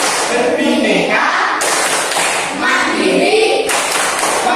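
A school class performs a rhythmic clapping chant together: loud, close group voices chanting in time with bursts of claps that rise and fall in repeated phrases.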